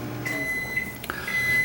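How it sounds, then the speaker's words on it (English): Microwave oven running with a steady low hum, a sustained high beep-like tone, and a brief click partway through, close and continuous. "And there's the microwave"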